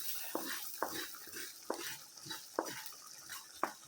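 A spoon stirs roasted mussels through a pan for a pickle, giving regular sharp clicks and scrapes about once a second over a faint, low sizzle, quiet and close.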